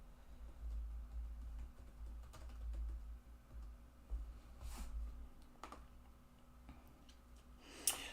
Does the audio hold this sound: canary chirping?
no